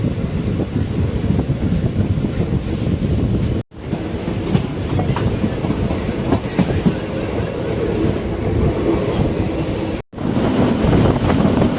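A Sengottai–Tirunelveli passenger express train rolls along the rails, loud and close, with continuous clickety-clack rumble and occasional wheel squeal, briefly cut twice.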